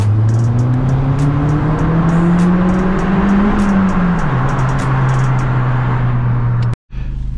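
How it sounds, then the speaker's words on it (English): Stock Vauxhall Astra VXR driving through a tunnel, its engine a loud steady drone that rises slightly and then eases, with reverberant road roar throughout before cutting out abruptly near the end. "So right now we're in a tunnel."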